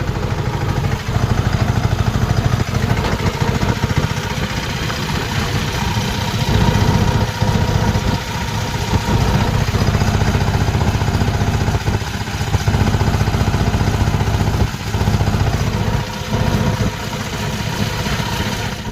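A farm tractor's engine runs steadily in a village, a loud, even low rumble with slight periodic surges throughout, and no one speaking.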